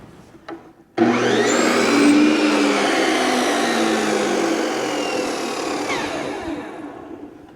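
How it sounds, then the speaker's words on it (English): A chop saw spins up with a sharp whine and cuts through wood to make wedges, a loud, steady, close grinding roar lasting several seconds that slowly tapers as the blade winds down. "I can set my chop saw at 5 degrees off"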